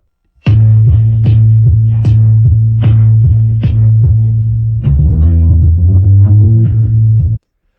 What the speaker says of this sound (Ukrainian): замість того, щоб додавати перший бас, який звучить ось так